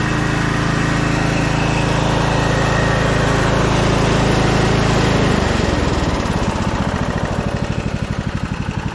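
A Scotts 15/42 lawn tractor engine revs hard, then drops to a smooth, even idle with a steady pulsing putter, loud and close with no voices.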